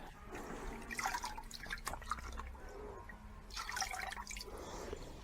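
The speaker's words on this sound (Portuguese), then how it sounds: "Por isso, vamos colocar aqui no balde com água." Water splashes and drips as soaked sphagnum moss is handled in a bucket of water for potting Phalaenopsis orchid seedlings, soft wet squelches and trickles coming in two close bursts.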